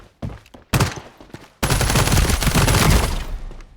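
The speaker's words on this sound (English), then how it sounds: "I'll try the machine pistol" Rapid machine pistol fire in a first-person shooter video game, loud and close: a few short bursts, then a sustained continuous stream of shots lasting about two seconds before tapering off, with no talking.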